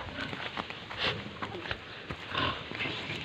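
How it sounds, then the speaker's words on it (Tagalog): Pigs on a pig farm, giving soft, low grunts and snuffles mixed with shuffling and rustling in the pen, fairly close and quiet, with a faint voice in the background. "so, yan ang isang baboy."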